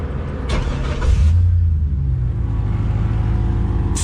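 A turbocharged 6.0 LS V8 cranks and fires up, then settles into a steady, deep rumbling idle. It sits close and loud with no talking.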